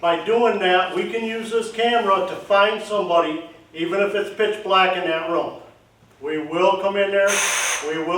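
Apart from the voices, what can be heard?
None of the usual background noises is heard.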